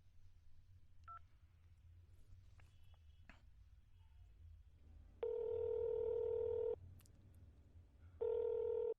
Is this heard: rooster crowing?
no